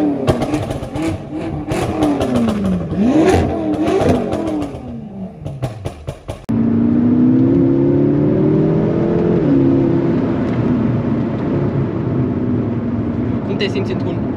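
BMW M6 tuned to 750 hp, its exhaust revving hard in loud rising and falling surges, then settling into a sustained roaring drone as the car pulls away.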